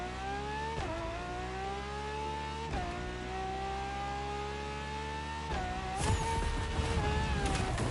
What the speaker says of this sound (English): I'm gonna hit nitro right after the turn.